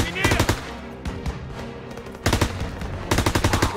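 Bursts of automatic gunfire from a World War II battlefield in Call of Duty WWII, loud rapid volleys in three clusters with short gaps between them.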